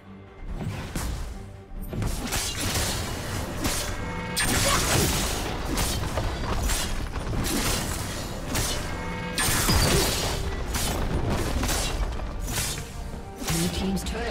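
Turret being destroyed in League of Legends, a dense stretch of crashing and smashing impacts over continuous battle noise, loud and busy, with an announcer voice speaking partway through.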